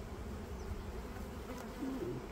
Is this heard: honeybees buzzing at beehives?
yes